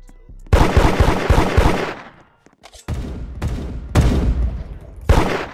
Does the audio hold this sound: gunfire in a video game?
yes